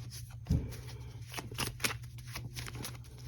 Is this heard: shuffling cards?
yes